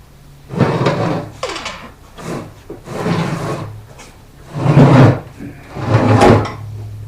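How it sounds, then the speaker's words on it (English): A metal mower deck scrapes and grinds as it slides out from under a John Deere D105 riding mower with a 17.5 Briggs engine, in several loud drawn-out pushes separated by short pauses. "Now that deck's ready to slide out from under that mower."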